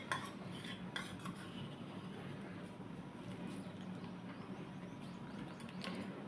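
Milk with dry fruit paste stirred steadily in a pot for ice cream, a faint continuous swishing with occasional light clinks of the spoon against the vessel.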